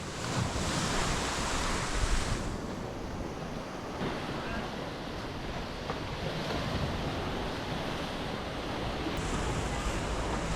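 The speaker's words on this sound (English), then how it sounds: "What a beautiful coastline." Ocean surf breaks against the rocky coastline at Vieste, Italy, in a continuous broadband wash with gusty wind noise rising and falling over it and no talk.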